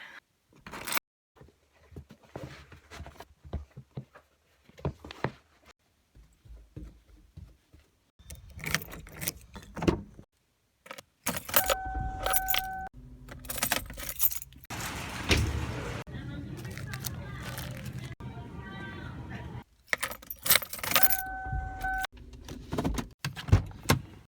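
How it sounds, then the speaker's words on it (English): Keys jangle in several short bursts, then a car door opens and shuts and someone settles into the car, with brief quiet stretches between the handling sounds. "getting my keys and getting in my car and going to the store"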